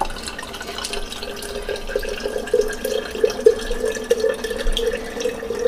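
Chicken stock pours steadily into a soup pot for lasagna soup, a close, gurgling trickle with small splashes and drips that rise and fall unevenly.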